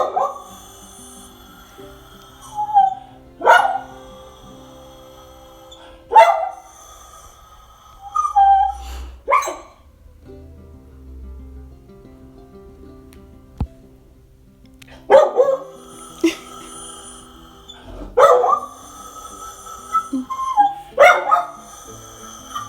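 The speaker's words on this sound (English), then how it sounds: "Oh my gosh, Pepper is howling at the sirens again." A dog gives several drawn-out, wavering howls at sirens, with short pauses between them, fairly close and loud, over a quiet background hum.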